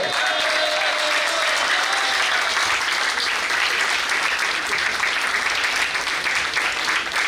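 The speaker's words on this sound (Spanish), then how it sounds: "Fuerte ese aplauso para más porteños que el obelisco." An audience at a neighborhood workshop gathering in Barrio Mugica applauds, a continuous, even stretch of clapping from many hands that runs steadily from start to finish.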